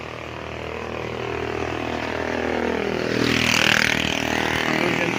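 A loud, continuous motorcycle engine roar swells and builds over several seconds as it passes nearby a roadside lot in Pila, Laguna, with no talking.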